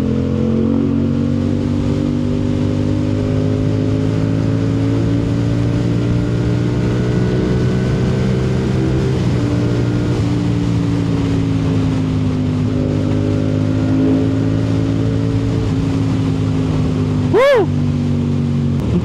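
A CFMoto 450 SR-S sport motorcycle riding on a road, its engine droning steadily with smooth harmonic pitch that rises and falls through gear changes, loud and close throughout, with a brief passing sound near the end.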